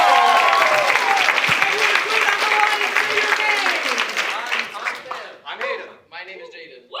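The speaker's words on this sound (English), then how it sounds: "round of applause" Audience applause fills the room at the close of a first-year comedy showcase, steady and loud before thinning out, with performers' voices breaking through as it fades.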